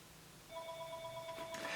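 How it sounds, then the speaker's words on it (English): A telephone rings indoors with a steady electronic tone that starts partway in and holds, fairly faint against room noise. "Now the phone's ringing."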